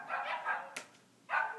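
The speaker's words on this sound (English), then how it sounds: "You hear the dogs barking to come outside." Dogs bark from indoors during a snowstorm, a few quick muffled barks in two short bursts, faint and somewhat distant.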